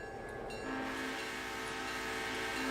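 Locomotive running in the Railroader train simulation game, a steady low engine rumble with a sustained horn-like tone that swells partway through, loud and continuous with no talking.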